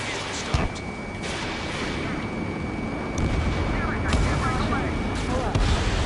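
Bursts of gunfire and explosive booms from the Ace Combat 7: Skies Unknown video game on PS5, loud and dense with rumbling blasts layered over continuous engine roar.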